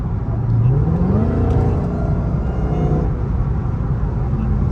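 A Dodge Hellcat driven in midday traffic lets out a rising supercharger whine over a loud, steady engine drone, then eases back.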